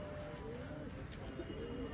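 Pigeons cooing softly with low, throaty calls over a steady background hum, somewhat distant, during a pigeon-flying tournament landing in Amritsar.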